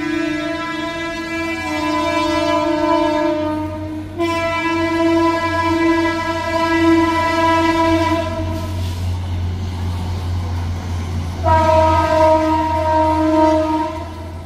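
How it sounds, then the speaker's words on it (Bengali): A stationary train sounding its horn, loud and near, in long sustained blasts broken by short gaps, over a low engine rumble, with no talking. "আর ট্রেনটা এখানে দাঁড়িয়ে আছে"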